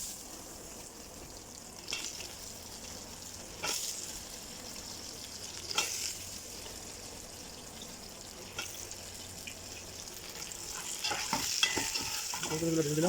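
Vegetables go into a hot pan of hilsa fish curry with potato and eggplant, giving a quiet low sizzle broken by scrapes and clatters from stirring. Watery splashes and a louder burst of frying come near the end.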